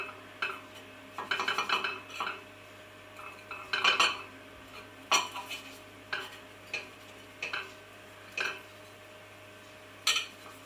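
Coated courgettes go onto a baking sheet one by one, each landing as a short soft tap or clink near the listener. The taps come at irregular intervals with small scraping sounds between them, and no one speaks.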